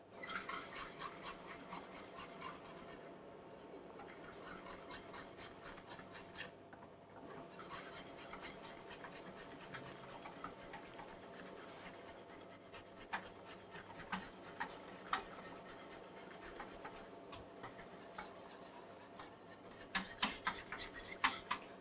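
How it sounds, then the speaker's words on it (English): A spoon stirs a thick, sticky Georgian dessert in a pot over medium heat, making a quiet, continuous scraping and rasping against the pot with occasional sharper knocks. "So therefore, you must stand here and keep stirring."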